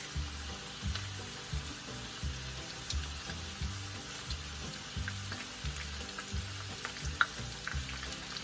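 Crunchy cheese taco shells frying in oil, giving a steady, soft sizzle with faint crackles and pops, and a low rhythmic hum running underneath.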